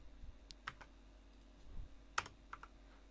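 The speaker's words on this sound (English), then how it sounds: "Why am I typing?" Sparse, faint keystrokes on a computer keyboard while coding, with a few separate clicks and a short burst spread over a quiet room background.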